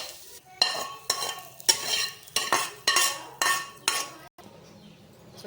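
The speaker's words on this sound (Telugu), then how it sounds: "ఇప్పుడు స్టవ్ ఆఫ్ చేసుకొని వేరే ప్లేట్లో షిఫ్ట్ చేసుకుందాం." Spoon or spatula scraping scrambled egg from a pan onto a plate, heard as about seven distinct scraping strokes in a steady rhythm with faint sizzling in between, close and fairly loud, no talk.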